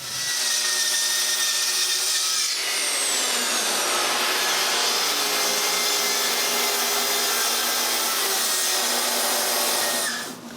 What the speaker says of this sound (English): Then I cut both ends.